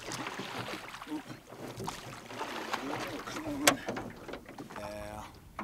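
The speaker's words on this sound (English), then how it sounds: "What we'll do is get on our oars here." Oars working a fishing boat on open water in wind, with soft rhythmic splashing and creaking under steady talk and breezy background noise.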